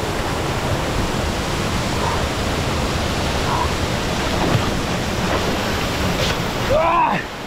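Shnurok waterfall near Aderbievka village outside Gelendzhik pours in a steady, dense roar of falling water. The rushing wash is close and constant throughout, and a voice calls out briefly near the end.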